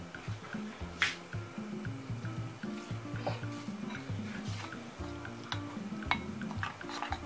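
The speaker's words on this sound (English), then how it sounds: "I'm going to mix this bit with cold water." Corn flour being stirred into cold water for akple, a wet, squishy mixing sound with soft scraping and occasional sharp clicks against the pot, steady and close, with no talking.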